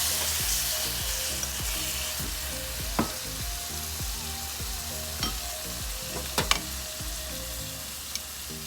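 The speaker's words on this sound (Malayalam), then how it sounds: "ഞാൻ ഇതിനകത്ത് കുറച്ച് വിനാഗിരി ഒഴിക്കുക," Pork vindaloo masala sizzles steadily in a pan after vinegar is poured in, a dense, even frying hiss with a few sharp pops and spatters scattered through, with no talking.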